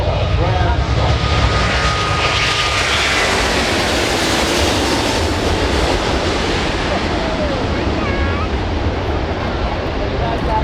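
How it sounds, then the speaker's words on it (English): An Airbus A380 airliner leaves on its departure at the Farnborough International Air Show, a loud, sustained jet roar that builds and rumbles through the whole stretch with some whining engine tones rising and falling over it. "the Airbus A380. The departure is not the normal sort of departure you do with passengers."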